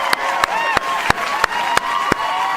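Slow, regular claps ring out one by one, about eight in under three seconds, evenly spaced and fairly close, over a faint background murmur, rather than a full crowd's applause.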